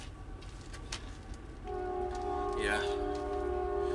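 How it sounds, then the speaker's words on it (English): A train arrives and runs past with a steady low rumble that grows partway through, accompanied by a short, bright squeal or horn-like tone; someone briefly speaks over it. "Train's here."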